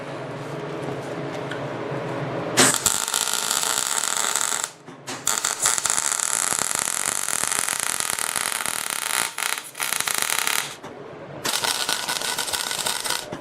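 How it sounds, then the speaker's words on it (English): A steel duck head mod for a Harbor Freight tire changer being welded, giving loud, crackling buzz in several bursts separated by short pauses, close up and without talk. "We're going to weld this sucker up."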